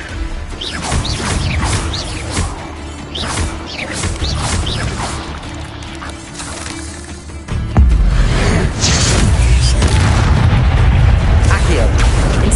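Incendio fire spells cast repeatedly in the Hogwarts video game, heavy booming bursts and whooshes in a dense, loud battle, growing louder toward the end, with voices calling out over the din.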